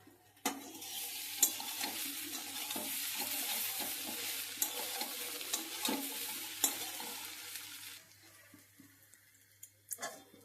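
Soybean chunks sizzle steadily in hot oil in a pan, with scraping stirs and a few sharp spoon knocks against the pan. The frying fades lower toward the end.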